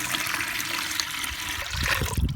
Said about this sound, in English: You're going to want to put a couple inches of water in the bottom